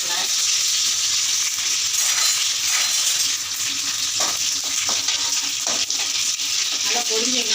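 Curry leaves crackle and sizzle in hot oil in a pan, a continuous loud hiss close up with occasional sharp pops and spattering bursts throughout.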